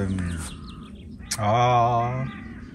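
A garden bird calls near a vegetable patch and greenhouse, a brief chirp followed by a clear, sustained tonal call, heard close and loud over a quiet outdoor background.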